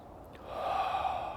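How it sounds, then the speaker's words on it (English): A single slow, deep breath drawn in while standing in a relaxed Tai Chi posture, a soft airy rush that swells and holds, close and gentle with no speech. "And now we can breathe"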